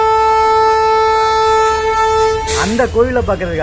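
A long, loud, sustained horn blast from the Yesvantpur–Mangaluru Express, heard up close, cutting off partway through as a voice starts talking over the train's rumble.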